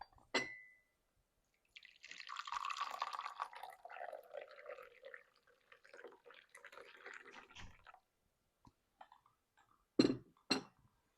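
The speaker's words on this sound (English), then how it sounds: "I pour myself a little tea." Tea poured into a cup, a steady liquid stream lasting several seconds at a soft, close level, followed by a couple of light clinks of glass or china.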